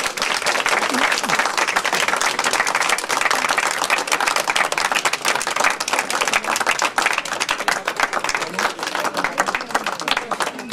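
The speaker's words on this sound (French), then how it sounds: "Et on peut s'applaudir." Sustained, energetic applause from an audience at a poetry festival closing ceremony with children gathered at the front, a dense, even roar of clapping that carries on for about ten seconds without letting up.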